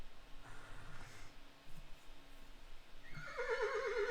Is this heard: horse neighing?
yes